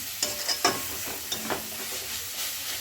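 Food mashed with salt, turmeric and coriander powder in a hot pan gives a few scraping, pressing strokes over a soft steady sizzle, close by and with no voices.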